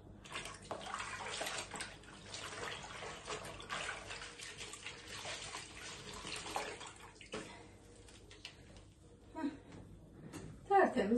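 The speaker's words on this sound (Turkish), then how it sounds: "Durulama suyu yapıyoruz. Duruluyoruz." Water pouring and splashing while an oven is rinsed clean after scrubbing with lemon, baking soda and salt, a soft irregular wash of running and dribbling water with a few brief louder splashes, with a person talking over it.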